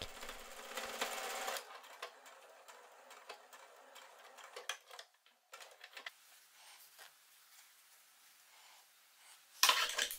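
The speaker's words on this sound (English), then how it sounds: "Close the cuff and sew about 1 cm on the wrong side of the fabric." Sewing machine closing a sleeve cuff, with a brief run of stitching at the start, then quiet intermittent mechanical clicks and handling, and a short loud burst near the end.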